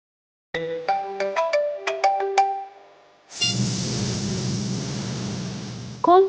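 A phone ringtone plays a short series of bright chiming notes, then a steady hissing tone follows until a brief sharp sound at the end.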